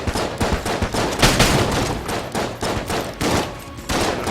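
Rapid, dense bursts of video game gunfire and grenade explosions from Enter the Gungeon, overlapping in a constant chaotic barrage without pause.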